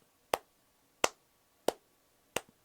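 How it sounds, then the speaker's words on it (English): A slow clap: four sharp, evenly spaced hand claps roughly two-thirds of a second apart, close and alone with no talking. "slow clap."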